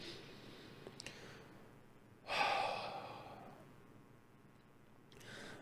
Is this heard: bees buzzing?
no